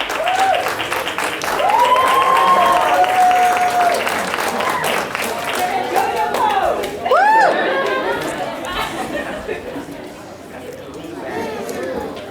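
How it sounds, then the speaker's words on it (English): A convention crowd claps and cheers loudly in steady applause for a cosplayer, with whoops and chatter rising above it before the clapping fades near the end. "Give her a round of applause."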